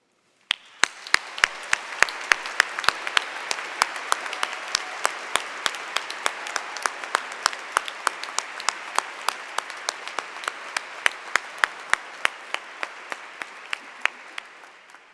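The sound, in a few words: audience applauding the educators at a commencement ceremony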